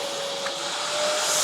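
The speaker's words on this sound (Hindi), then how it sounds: "तो कुछ इस तरह से हमारा मशीन चालू होता है" An American Micronic 21L 1600W wet-and-dry vacuum cleaner runs with a steady, loud motor whine and airy rush of suction, holding constant with no other sound.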